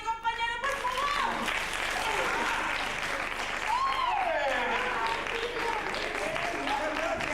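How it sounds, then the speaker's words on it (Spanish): Audience at a children's theatre performance bursts into sustained applause, dense clapping with voices calling out over it, continuing steadily to the end. "¡Un aplauso para mi compañero, por favor!"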